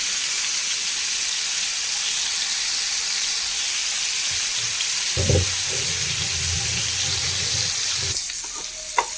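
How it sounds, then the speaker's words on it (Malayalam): Four chili-marinated kingfish pieces fry in hot oil with a loud, continuous sizzle, broken midway by a few thuds and scraping from the pan, then easing off near the end. "ആദ്യം അതൊന്ന് വറുത്തെടുക്കാം. ഒന്ന് ഫ്രൈ ചെയ്ത് വരട്ടെ."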